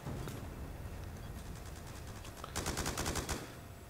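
Sustained Black Ops 2 gunfire on a boat map, a steady rattling bed of shots with a sharper, louder automatic burst of rapid, evenly spaced rounds near the end.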